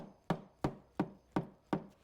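Five sharp, evenly spaced knocks on a part of a 2005-2008 Honda Pilot engine, each a short close thud that fades quickly, with no talking.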